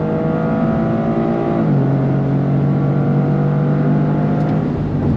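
A 2025 Toyota GR Corolla with an 8-speed automatic climbs under throttle toward 7,000 RPM, a loud steady engine drone heard from inside whose pitch steps down at a gear change and then rises again, with no talking.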